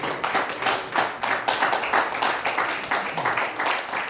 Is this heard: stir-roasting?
no